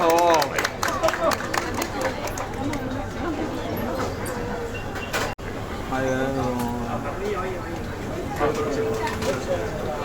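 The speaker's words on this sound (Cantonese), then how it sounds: "請大家俾多啲嘅掌聲，我哋嘅嘉賓" Audience applause welcomes guests at a bakery's product launch and tasting event in Tsuen Wan, Hong Kong. Clapping is strongest at the start, and loud talk and crowd chatter continue over it throughout.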